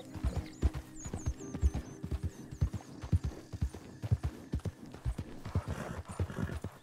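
Horse hooves galloping in the Western game Red Dead Redemption 2, a loud fast rhythmic clip-clop that runs throughout with a few high bird-like calls and no talk.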